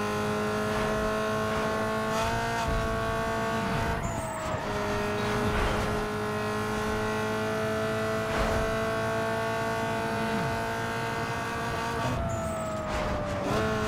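A street-racing car's engine in Need for Speed Underground 2 holds a steady high drone, with pitch shifts as the gears change, loud and close for the whole stretch.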